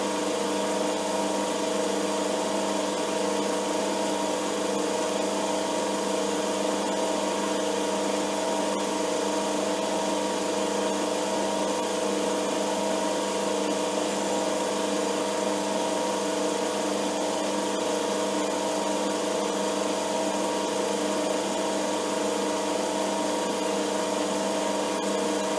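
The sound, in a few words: metal lathe cutting with ER32 collet chuck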